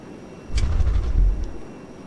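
An A-10C jet in Arma 3 takes off: a low engine rumble swells suddenly, holds steady and loud for about a second, then eases back with a faint high whine above it.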